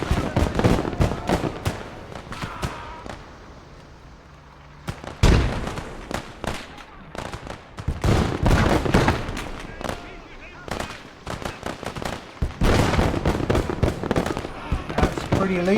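Flak cannon fire rings out in a WWII-era video game battle during the fall of France, with dense bursts of sharp booms and rattling blasts coming in loud clusters, a brief lull midway, then heavy firing again.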